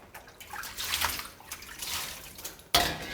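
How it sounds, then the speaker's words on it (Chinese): Hands being washed under a running kitchen tap while preparing Chinese stir-fried beef with green peppers, a steady close water rush with a sudden louder splash near the end, no voices. "洗一下手。"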